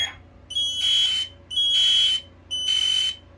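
A Kidde 900-CUAR combination smoke and carbon monoxide alarm sounds during an interconnection test, giving three loud, shrill electronic beeps in an even pattern with short silent gaps between them.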